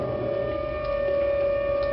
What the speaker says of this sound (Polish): Słychać syrenę właśnie.